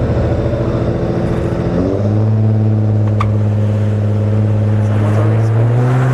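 Pickup trucks at a drag strip start, a Ford F-150 lined up against a Ram 2500 with a Cummins diesel. Loud engines drone and rise in steady harmonic tones as tires spin, with a voice talking over the roar.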